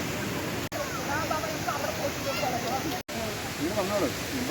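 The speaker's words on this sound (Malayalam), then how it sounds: "ആ അറ്റത്ത് വെള്ളച്ചാട്ടം കാണാമെന്ന് പറഞ്ഞിട്ട് അങ്ങോട്ട് പോവുകയാണ" Broadband rushing water of the Meenvallam waterfall fills the background as a steady hiss, with people talking over it and two brief dropouts.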